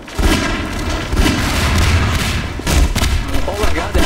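Grenades exploding in a Half-Life 2 Synergy multiplayer firefight, with dense, loud, repeated booms and thuds that keep crowding one another without letting up.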